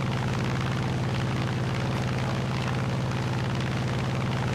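Aircraft engines in a War Thunder tank battle give off a steady, loud low roar with a rumbling drone that holds for the whole span, with no talk over it.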